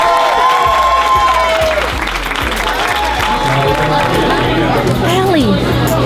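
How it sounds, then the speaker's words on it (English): An audience at a Los Angeles book signing claps steadily and warmly, the dense patter of hands mixed with chatter and a voice speaking over it, close and fairly loud throughout. "Everybody give her a big round of applause."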